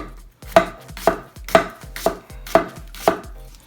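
A Dalstrong Shogun Series X knife chops on a cutting board in an even rhythm of six crisp, close, loud strikes about half a second apart, with no voices.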